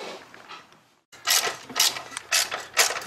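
Close ratchet clicking as bolts come off the heat shield of a Grand Prix GTP 3800 engine during a header install, a brief quiet spell, then several bursts of rapid ratcheting.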